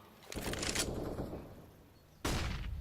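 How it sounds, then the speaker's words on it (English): Bursts of AK rifle fire in Counter-Strike during a professional ELEAGUE Boston 2018 match on Inferno, a sustained loud volley followed by a short pause and another burst, with no voices over it. "just going to use every bullet of that AK. Every single one."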